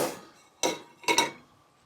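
Kamado grill accessories, a metal grill grate and a diffuser plate, are set down on the ground. One sharp clank is followed by a quick double clatter, close and distinct, with no talking.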